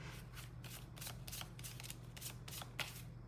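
Tarot cards shuffled by hand in quick repeated riffles, about eight crisp papery bursts in a steady rhythm, close and fairly quiet with no voices.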